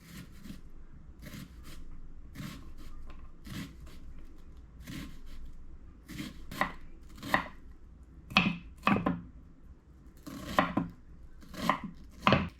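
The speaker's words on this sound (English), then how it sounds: "Let's chop up this red onion." Knife chopping a red onion on a cutting board for braised catfish, a steady run of sharp, close taps that speeds into louder clustered strokes near the end, with no talking.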